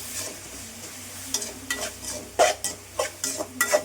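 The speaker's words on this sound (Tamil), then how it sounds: "தக்காளி நல்லா வதங்கணும்" Soft background sizzle of tomatoes sautéing as a spoon stirs and scrapes through them in a pan, several clinks toward the end; no speech.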